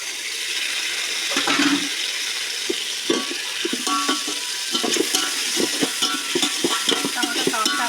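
Tomatoes frying in a pan while chicken biryani is cooked, a steady close sizzle with scraping stir strokes and clinks running throughout, no talk.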